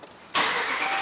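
A car engine cranks and catches during an automotive diagnostic test: near-silence, then a sudden loud burst as it fires and settles into a steady, noisy roar.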